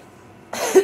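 A single short cough, close and fairly loud, after a quiet moment, ending with a brief throaty rasp.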